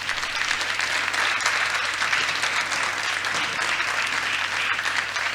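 An audience at a climate solutions conference applauds in a dense, steady round of clapping that carries on for several seconds without talk.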